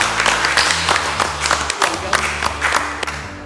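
An audience at a theology quiz claps steadily for a few seconds, with dense, close clapping over a low hum from the venue.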